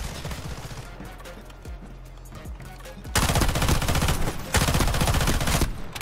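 Heavy gunfire from a Delta Force: Hawk Ops match, starting as scattered shots over a low game backdrop, then erupting into loud, dense automatic bursts that pause briefly and resume near the end.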